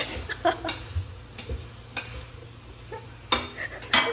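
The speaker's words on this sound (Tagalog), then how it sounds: "Haluin natin ulit. Pa-sounds ka muna." Fresh tamban fish kinilaw being stirred in a bowl, giving scattered wet clinks and scrapes in irregular bursts, close and moderately loud, with a steady low hum underneath.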